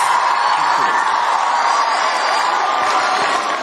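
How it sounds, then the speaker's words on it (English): Large crowd at an outdoor ceremony in Kenya, steady dense roar of applause and cheering with scattered whoops, sustained and loud throughout. "Let us give them another round of applause."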